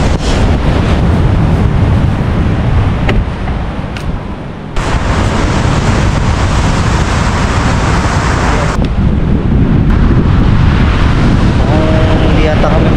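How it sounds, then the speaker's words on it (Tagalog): Strong waves crash on a stormy beach at Dingalan, Aurora, with heavy surf and gusting wind buffeting the microphone in a loud, continuous roar throughout. "Grabe yung lakas ng alon. Umaabot hanggang taas eh."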